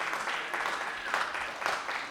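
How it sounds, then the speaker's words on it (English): An audience applauds a panel at an evening storytelling Q&A, with a dense wash of clapping held steady for about two seconds and faint voices under it. "Everyone, clap it up for our panel."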